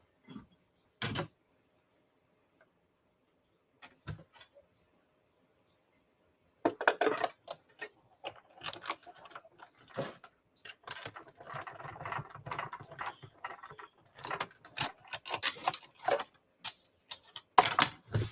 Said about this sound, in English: I'm going to run it through the die cutting machine.